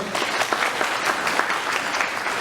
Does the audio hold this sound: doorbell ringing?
no